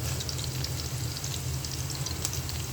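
Chopped onion dropped into hot oil in a pan, a steady close frying sizzle with crackle throughout, no talking.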